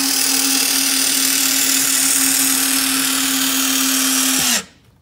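The starboard surf gate on a 2010 23LSV boat deploys with a steady, loud electric motor whine holding one even tone for several seconds, then stopping abruptly into near silence.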